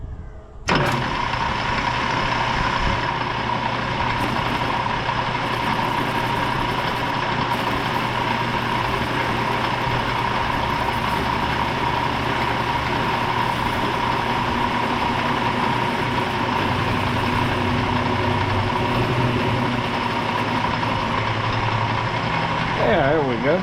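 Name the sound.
cutter machining an outboard motor shaft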